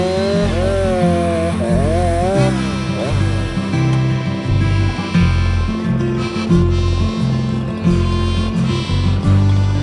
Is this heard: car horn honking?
no